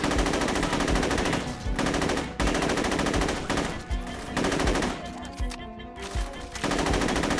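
AK rifle fire in the video game Saints Row 2, heard as long loud bursts of rapid automatic shots with brief gaps between them.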